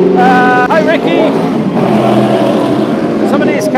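Race cars at Mondello Park race track, loud engines revving and droning close by, the pitch shifting as cars pass and accelerate, with voices talking over the din.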